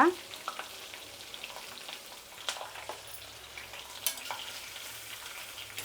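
Green chilies and asafoetida fry in a hot oil tempering with the stove just switched off, giving a soft, steady sizzle dotted with sharp little pops and crackles, close by and with no talking.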